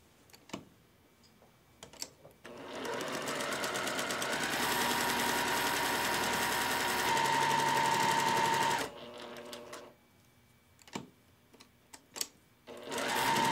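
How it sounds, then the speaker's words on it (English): A sewing machine stitches a quilt pinwheel block, running steadily for about six seconds as a loud, continuous whirring hum, framed by sharp ticks and clicks before and after the run. "So now you've sewn your large pinwheel unit together."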